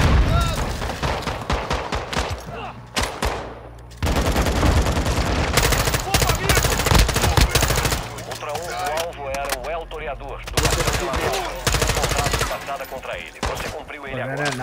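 Call of Duty DMZ combat erupts in dense, continuous automatic gunfire, sharp rapid shots nearly filling the whole stretch with brief lulls, as players talk excitedly over the shooting.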